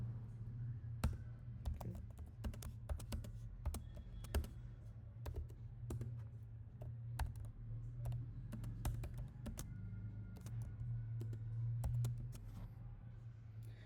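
Steady, close computer keyboard typing while entering code for a Spark database task, with rapid irregular key clicks throughout over a low hum, and a brief spoken word.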